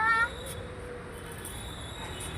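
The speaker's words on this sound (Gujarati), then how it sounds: "चलो मित्रों તમને બિલાડીના બચ્ચા બતાવીએ" Kittens at home giving one short, faint meow at the very start, followed by quiet room background.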